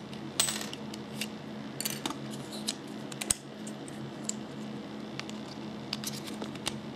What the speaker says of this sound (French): Je vais tout simplement mettre la carte SIM Rogers.